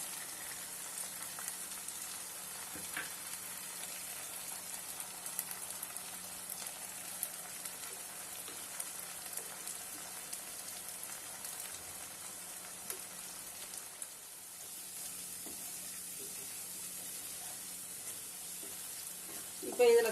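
Spiced masala sautéing in a pan for prawn ghee roast, a steady, faint sizzle and crackle with occasional stirring scrapes, no voice over it.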